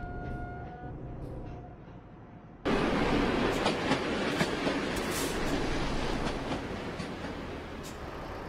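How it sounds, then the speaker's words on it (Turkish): A Polish train rolls past in Euro Truck Simulator 2, a sudden loud, steady rush of rail and wagon noise that starts partway through and stays dense to the end, following a quieter engine hum. "Polonya treni de geçiyor."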